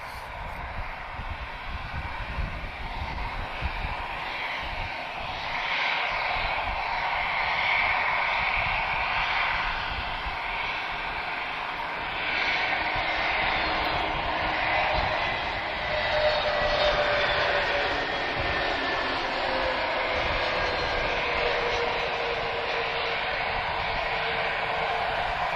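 An Airbus A320 from Zurich on approach to Lisbon Airport makes a sustained, even jet-engine rumble with a faint whine above it, continuous and moderately distant, with no voices.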